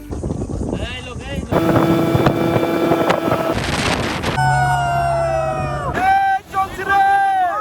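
A speedboat engine drones loudly while travelling along a canal through mangrove forest at Char Kukri Mukri, Bangladesh, with wind rushing against the microphone and music playing over it.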